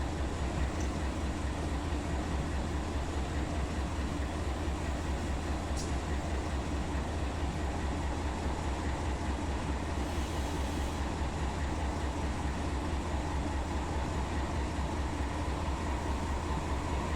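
A long intermodal freight train rolls on with a continuous low, droning rumble and faint rail clatter, steady and unbroken for the whole stretch with no voices.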